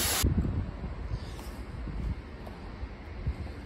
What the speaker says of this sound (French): je suis désolé s'il y a du vent